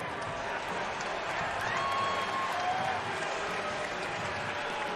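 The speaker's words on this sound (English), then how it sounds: "Nice round of applause for Lamont Wade Jr., who's 0 for 2." A ballpark crowd at a Padres vs Giants baseball game gives steady applause and murmuring for a batter, with a commentator talking over it.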